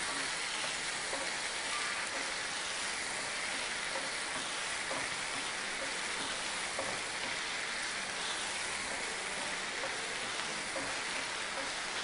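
Chicken seasoned with black pepper fries in a pan, giving a steady, dense sizzle with light crackles that holds evenly throughout, close and unaccompanied by talk.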